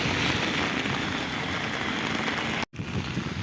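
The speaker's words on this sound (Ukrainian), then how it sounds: "На жаль, дощ не зупиняється" Steady rain falling at an outdoor used-car market in Rivne, a dense, continuous hiss of drops on surfaces close by, with a brief cut in the sound before the downpour resumes.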